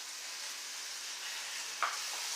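Burger meat sizzles in a frying pan as it is broken into pieces, a soft continuous hiss of frying with one brief scrape of stirring near the end.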